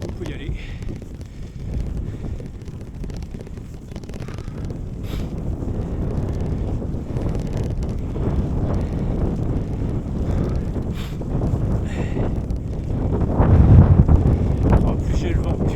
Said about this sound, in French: En plus j'ai le vent